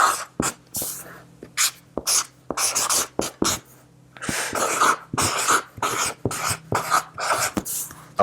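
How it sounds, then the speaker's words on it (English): A pen or pencil scratching across paper in bursts of quick strokes with short pauses between, close and fairly loud, with no talking. "First thing, write it down."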